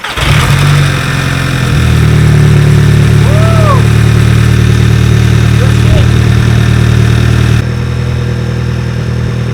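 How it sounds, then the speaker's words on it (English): A car engine turns over and settles into a steady, loud idle with a low rumble, briefly revving before the sound cuts lower. "So first we should be able to turn the car on."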